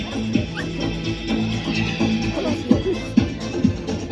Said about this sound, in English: Next dog I believe being deployed is going to be Police Dog Kylo.